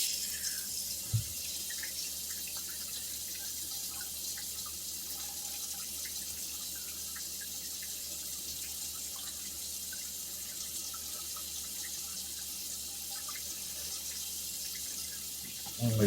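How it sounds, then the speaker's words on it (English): Lukewarm tap water runs into a sink in a continuous, quiet hiss that stays steady throughout, with a soft knock near the start and a faint clatter at the very end. "This is just lukewarm water."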